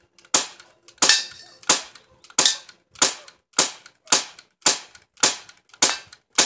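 A Crosman 1911BB CO2 pistol fires about a dozen sharp, snappy shots at a steady pace of roughly two per second, each a crisp crack that decays quickly, close and loud with no talking.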